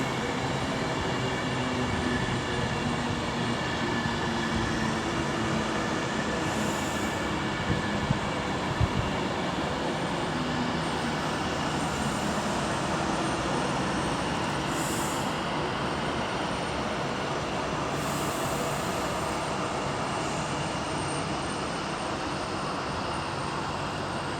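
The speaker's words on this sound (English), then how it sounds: "A little bit of a flat wheel on the front" A train at Milton Keynes Central on the West Coast Main Line, with a slight flat wheel on its leading end, rolls past in a steady, loud rumble of wheels and rail noise lasting throughout.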